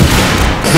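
A pistol fires in a video game: one loud, dense burst of gunfire that fills the whole short moment, with no pause or decay.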